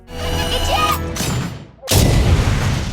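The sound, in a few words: cartoon explosion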